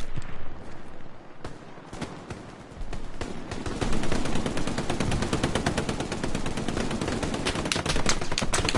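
Sustained gunfire in the WWII shooter Hell Let Loose on PS5: after a few scattered shots, dense machine-gun bursts and rifle fire crackle continuously and loudly, close by with more distant shooting mixed in.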